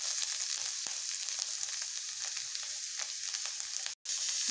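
Bitter gourd sautéing in a pan with garam masala and salt, giving a continuous bright frying sizzle with faint stirring ticks, briefly cut off near the end, with no talking.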